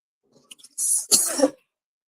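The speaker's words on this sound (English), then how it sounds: "There's so much pepper in here. That's why I'm coughing." Two quick, harsh coughs from pepper in the air, close to the microphone, one short and one longer, followed by silence.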